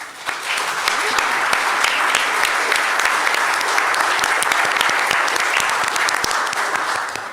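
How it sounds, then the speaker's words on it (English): A warm round of applause from the conference audience for a panel on financing transport decarbonisation, loud and dense, sustained for about seven seconds with sharp individual claps standing out over the crowd. "I'd like to have a warm round of applause for all the panelists."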